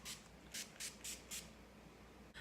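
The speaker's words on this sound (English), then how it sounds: "I just go ahead and spray my face one more time" Five quick sprays from a pump mist bottle of NYX Matte Finish setting spray onto a face hiss close by in a steady rhythm, followed by a soft click.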